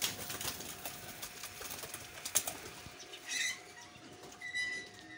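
Salaray Teddy pigeons flap their wings in fluttering bursts, with soft rustling and a couple of louder wingbeat flurries, no talking.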